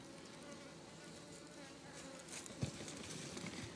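Bees buzz steadily around an old, broken-down beehive that has stood in place for several years, a faint, continuous hum close by with one brief knock partway through.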